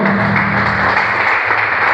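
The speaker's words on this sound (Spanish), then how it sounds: "Damos un aplauso" A church congregation claps together, a dense continuous round of applause at close range with no pauses.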